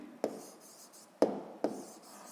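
A pen writes a short word by hand on paper, close and quiet, with three distinct scratchy strokes separated by soft gliding.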